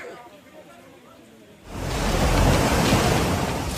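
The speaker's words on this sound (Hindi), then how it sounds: "लहरों का ये शोर डरा रहा है" Flood waves of a swollen river in Poonch, Jammu and Kashmir, burst in as a loud, steady roaring rush after a brief quieter opening, continuing close and unbroken to the end.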